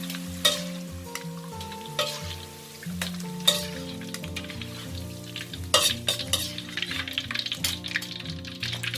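Sliced shallots frying in oil in a pan, a steady sizzle broken by repeated scrapes and clinks of a spoon stirring, close and continuous over a faint background tone.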